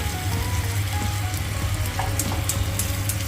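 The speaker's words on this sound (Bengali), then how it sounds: "আগে গেল পেঁয়াজ বাটাতে, তেলে, গরম তেলে" Onion paste frying in hot oil on a low gas flame, a steady dense sizzle with fine crackling pops running throughout, close and fairly loud, no talking.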